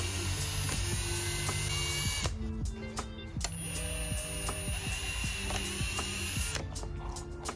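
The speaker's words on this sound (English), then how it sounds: "I marked the copper tube about 7 times so I can drill little holes in it" A drill boring small holes in copper tubing for tire sprayers on a Nissan 370Z drift car, with several whining bursts of drilling separated by short pauses and mechanical clicks, close and steady, no talking.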